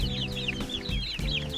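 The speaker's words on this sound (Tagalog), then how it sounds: "Ito na yung update sa ating sisiw guys." Chicks (sisiw) being fed chirp in quick, high, repeated peeps close by, with low clucking-like sounds underneath and no talking.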